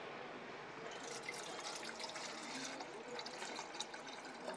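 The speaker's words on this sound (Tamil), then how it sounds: "நம்ம இதில் தண்ணி ஊற்றி சுடு பண்ணிக்கலாம்" Water pours into an electric kettle in a steady, faint trickle that runs continuously without pause.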